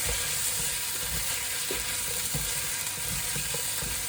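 Tomato puree stirred into a hot pan for slow-cooked wagyu beef short ribs, a loud, dense sizzle of frying with scraping stirs and small pops, close up and without speech.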